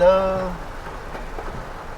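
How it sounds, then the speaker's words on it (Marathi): Steady heavy rain hiss at a village house in Devgad fills the clip, a broad wash of noise after a brief tonal voice at the start. "जोरदार पाऊस हा"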